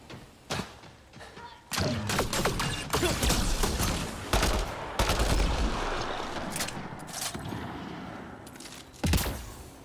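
Sci-fi combat gunfire in Mass Effect Andromeda, heavy overlapping shots and impacts forming a dense, continuous fusillade with a few sharper cracks, under occasional voices.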